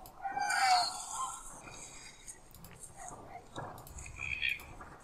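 A dying crow in a video game gives a hoarse, strained caw, a few ragged calls of shifting pitch that rise and fade, with faint breathy sounds between them.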